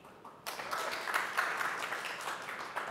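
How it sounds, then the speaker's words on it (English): Audience applause at a blockchain developer conference talk, a dense, steady patter of many hands clapping that bursts in after a brief quiet moment and carries on evenly to the end. "I like a clap before we've even started."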